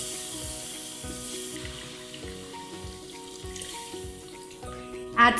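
Water poured into a pot of mutton with roasted onions and ground masala for an Indian curry, a steady splashing and trickling that runs throughout with a louder burst near the end.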